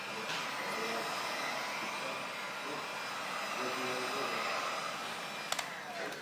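Heat gun warming a vinyl decal on a ballistic shield, a continuous airy blowing hiss held steady at close range, with a couple of faint clicks near the end.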